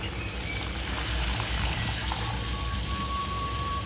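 Water poured into a frying pan of hot oil with cumin, mustard seeds and salt, giving a continuous hissing, rushing wash of sound that stays steady and close.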